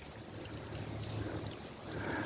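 A waterfall next to an office building gives off a steady, even rush of falling water at moderate distance, continuous and unbroken with no voices over it.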